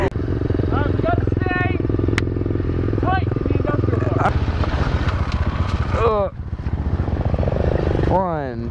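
Several SSR125 pit bikes idle and rev nearby in a continuous loud engine drone with shifting pitch, while voices shout and talk over the noise throughout.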